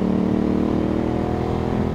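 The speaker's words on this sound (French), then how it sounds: "t'entends une moto arriver" A motorcycle engine drones close by on the Col du Galibier mountain pass road, a loud, steady growl holding an even pitch for the whole stretch.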